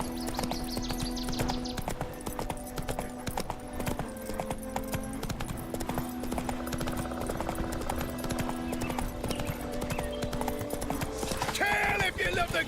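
Roach, Geralt's horse in The Witcher 3, trots with a steady rhythmic clip-clop of hooves, joined by game music and talk, with a short whinny near the end.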